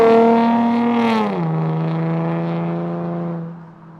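A big, heavy Chevy SS sedan on a tight racing circuit gives a steady, loud engine drone that sags in pitch as it eases off, then holds a sustained hum before fading.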